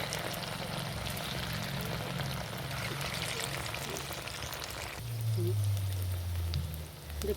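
Leftover rice chips frying in hot oil, a steady close sizzle and bubbling hiss that swells louder about two-thirds through, with faint clinks and a low background hum.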